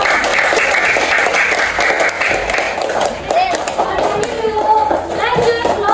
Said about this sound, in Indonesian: Oke, kasih tepuk tangan kepada kelompok